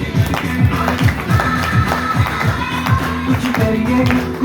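A small group claps in a steady, rhythmic beat, the individual hand claps distinct and close, repeating evenly without speech.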